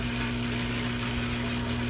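An aquaponics water pump running submerged gives a steady mechanical hum with a fixed low drone, under constant bubbling, gushing water that fills the space evenly without breaks and with no voices.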